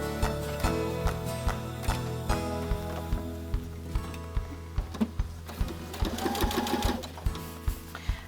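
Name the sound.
sewing machine stitching a fabric pillowcase seam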